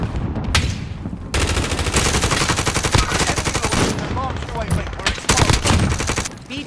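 Sustained automatic gunfire from a Call of Duty Warzone match, loud dense bursts of machine-gun fire rattling almost continuously after a brief opening shot, with a few short gaps and a faint voice underneath.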